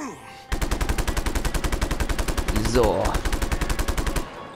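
Sustained automatic gunfire from a weapon in the video game Just Cause 3, a steady rapid rattle of shots lasting several seconds with a brief whooshing sweep midway, loud and close. A voice speaks briefly at the start.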